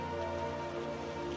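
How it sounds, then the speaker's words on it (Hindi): Steady rain falling at night, a continuous soft hiss of drops on surfaces with a low, even drone beneath it, unbroken and without voices. "सिर्फ बारिश की आवाज"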